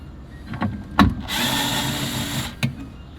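A power drill backs Phillips head screws out of a car amplifier on a 2023 Ford Bronco, a close, steady whir of about a second framed by a few sharp clicks and knocks.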